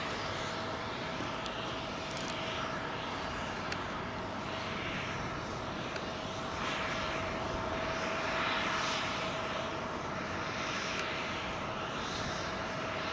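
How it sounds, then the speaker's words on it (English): Avro Lancaster bomber climbing out after takeoff near Heathrow, a steady broad piston-engine drone with a sustained tonal hum, held at even loudness throughout with no talk. "Lancaster Airborne. She's looking beautiful up there"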